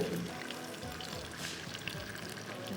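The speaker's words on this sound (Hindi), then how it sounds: "अच्छा, आपने पानी डाल दिया।" Half a cup of water poured into a hot cooking pan during an Afghani mutton recipe, a steady hissing trickle and sizzle close by, continuous for a few seconds with faint voices in the background.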